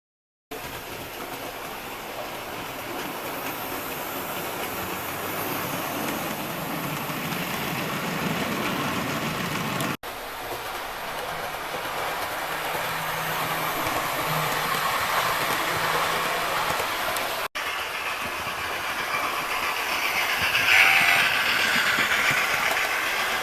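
A 00 gauge model railway on a 10-foot by 8-foot two-loop layout, with trains running in a steady, moderately loud mechanical whirr and rumble that continues without pause.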